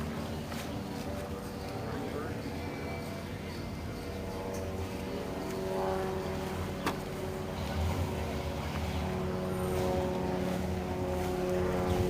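Big-block Chevy Nova SS engine running with a continuous deep, rumbling idle that holds steady and swells slightly louder toward the end, with voices talking faintly over it.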